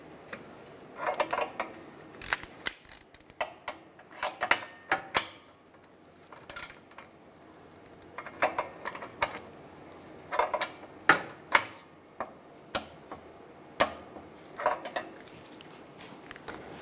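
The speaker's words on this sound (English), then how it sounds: "And now I'm going to torque this O2 sensor to 31 foot-pounds." Metal tools clatter and ratchet in short, irregular clicks and clinks up close while an oxygen sensor is tightened with a torque wrench on a 2010-2016 Cadillac SRX, bank 2 downstream position.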